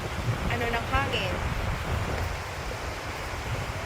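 Strong wind gusting across St. Albans Lake in Vermont, a loud broadband rush with microphone buffeting, with a brief voice and bird-like calls early on.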